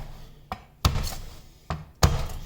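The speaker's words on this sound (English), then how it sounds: "all I want to do with this is just give it a smash" A knife blade slammed flat onto garlic cloves on a cutting board, two pairs of sharp thuds, each a light tap followed by a heavier smash, close and alone.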